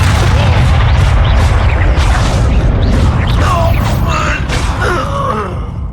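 Bombarda spell blasts in Hogwarts Legacy combat, loud continuous booming explosions layered with groans and gasps from battling characters, dense and rumbling throughout with a voice shouting spell names.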